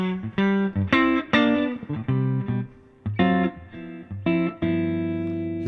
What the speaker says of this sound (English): So here's the neck pickup, all clean and juicy.